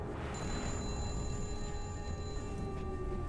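A telephone rings in the Sniper Elite V2 video game, a steady electronic bell tone holding on continuously over a low background rumble, moderately loud and heard alone without voices.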